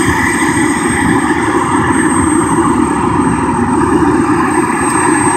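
A US Marines helicopter runs its engine on the ground at South Lake Tahoe Airport during run-up and autopilot tests, a loud, steady turbine roar with a constant high whine, unbroken throughout.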